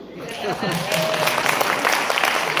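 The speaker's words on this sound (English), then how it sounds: "he'll do it better if you clap harder." A seminar audience in Bahrain breaks into clapping, with scattered claps that grow into steady, moderately loud applause while a voice speaks over it.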